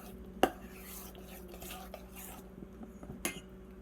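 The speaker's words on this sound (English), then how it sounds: "so stir that all in." A spoon stirs deviled egg filling in a bowl, giving soft scraping with two sharp clinks against the dish, one early and one near the end; everything stays quiet and close, with little else around it.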